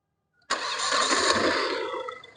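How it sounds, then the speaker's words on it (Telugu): A diesel 2018 Hyundai Grand i10 Sports engine cranks and catches after a moment of silence, then settles into a steady, loud, close-up idle rumble with no talk over it. "సింగిల్ సైడ్ అయితే బండి స్టార్ట్ అవుతుంది."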